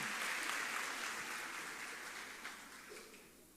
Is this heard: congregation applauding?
yes